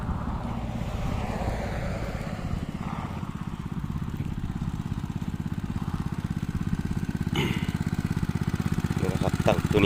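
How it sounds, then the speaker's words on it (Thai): A water pump engine chugs steadily at a shrimp pond outdoors, a continuous low rhythmic drone with wind buffeting the microphone and a few faint clinks. "ตั้งเครื่องสูบเนาะ"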